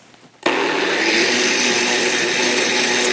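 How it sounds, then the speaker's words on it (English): A blender switched on to grind almonds into milk: after a brief quiet start it snaps on abruptly into a loud, steady, whirring motor drone that holds evenly to the end. "And just turn on the blender."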